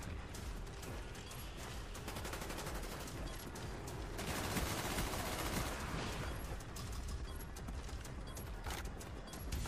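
Sentry gun fire in Call of Duty Black Ops 2 rattles on continuously in dense rapid bursts, mixed with other battle noise at steady loudness.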